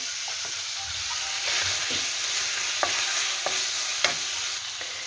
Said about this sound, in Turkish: Kıymamızı kavuruyorum.